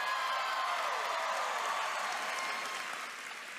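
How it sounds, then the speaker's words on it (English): Dense, sustained audience applause at the D23 Expo for Jordan Fisher, a loud indoor crowd clapping steadily and tapering slightly at the end. "How about another huge round of applause for Jordan Fisher?"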